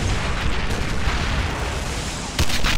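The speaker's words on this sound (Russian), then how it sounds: "У них артиллерия еще работает" Artillery fire in the World War II battle game В тылу врага: Штурм 2, set at Stalingrad in 1942, rumbles as a continuous, loud barrage of heavy booms. A sharper burst lands near the end.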